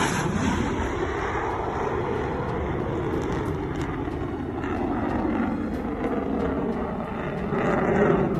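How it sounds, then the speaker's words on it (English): A MiG-29 fighter jet of the Ukrainian 204th Tactical Aviation Brigade flies past as a steady, broad roar that holds throughout and swells slightly toward the end, with no talk. "Ukrainian fighter MiG-29 Blue from the 204th Tactical Aviation Brigade."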